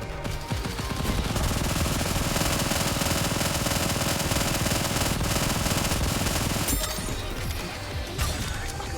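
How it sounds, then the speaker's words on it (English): Video-game gunfire shooting at the players: dense, continuous machine-gun bursts and crashing impacts rattle loudly for the whole stretch, with a brief change in texture near the end and no talking over it. "What the hell is shooting us?"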